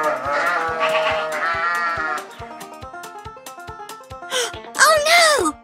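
A sheep in a toy farm diorama scene bleats a few times toward the end, loud and wavering, over a bouncy rhythmic music track with a steady beat.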